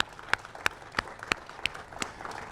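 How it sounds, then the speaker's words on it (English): Applause at a Juneteenth flag-raising ceremony in Wakefield: a thin, scattered patter of claps against a low crowd murmur, with a few sharp, louder claps standing out at a steady pace. "Big round of applause for you."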